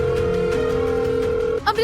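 Steady electronic telephone ring-back tone droning through an unanswered call, loud and continuous, cutting off near the end into a brief higher beep.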